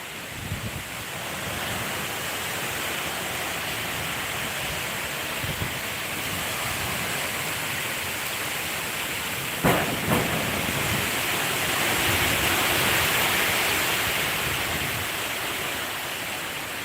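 Strong typhoon wind from Typhoon Kristine roars without a break in the Bicol Region, a dense, loud rushing with gusts swelling near the end and no voices over it.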